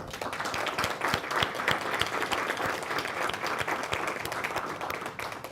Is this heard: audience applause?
yes